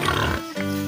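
Several pigs on a small farm grunt and snort as they are fed from buckets of food, a short close burst of grunts that drops off and then returns.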